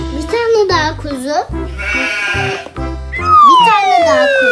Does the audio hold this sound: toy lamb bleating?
yes